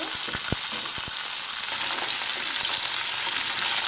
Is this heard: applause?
no